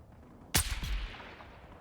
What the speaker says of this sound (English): It's like gunfire.